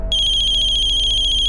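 A telephone rings with a steady electronic trill, loud and close, repeating in quick even pulses with no voices over it.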